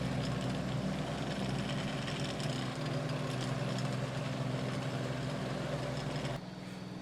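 A sailboat's engine runs at a steady drone under way in open water, a constant low hum with a faint higher whir that continues unbroken before dropping slightly in level near the end.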